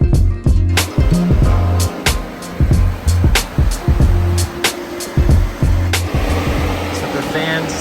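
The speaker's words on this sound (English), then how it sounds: "what the fans sound like on the second stage" Electric radiator fans on a Silverado truck run on their second stage with a constant airy whoosh, while sharp repeated knocks and thumps sound close by over the top.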